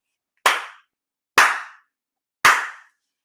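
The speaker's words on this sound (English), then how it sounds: "Slow, medium clap." Three slow, sharp hand claps spaced about a second apart, each crisp and close with a quick decay into silence between them.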